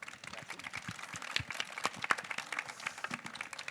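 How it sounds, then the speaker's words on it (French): Audience at a climate and business summit plenary session applauding, scattered light claps at moderate distance with uneven rhythm, mixed with a voice speaking over them. "on peut les applaudir"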